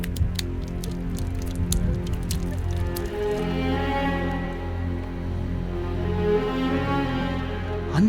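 Water drips inside a box in a film scene: a quick run of small, sharp drops early on, then fading beneath sustained tonal background music.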